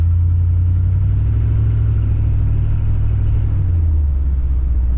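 A 1977 Chevrolet Suburban's engine drones steadily from inside the cabin while driving, a loud low rumble holding a constant pitch before dropping slightly near the end.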